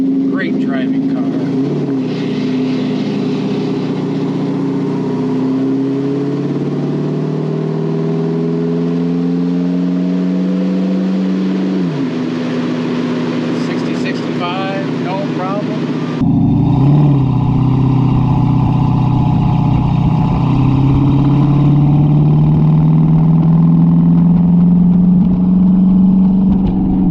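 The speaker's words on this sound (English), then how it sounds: "that 351 has no problem pulling this down the road" A 1935 Ford Slantback street rod with a 351 cubic inch V8 accelerates on the road, a loud continuous engine drone rising in pitch through the gears with a shift partway, heard from inside the car.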